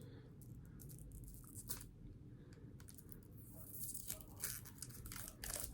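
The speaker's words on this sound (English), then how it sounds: "Let's see if I can get the plastic off." Plastic wrapping on a makeup subscription package is torn and peeled away in a run of quiet, close crinkling rips, with no talking.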